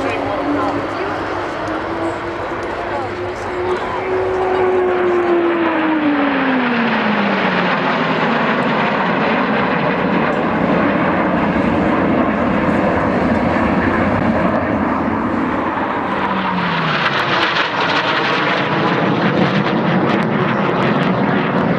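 Team Viper display aircraft from the Empire Test Pilot School flying an oblique loop at the Waddington airshow 2011, a loud sustained engine drone whose pitch sweeps up and down through the manoeuvre, with a commentator talking over it.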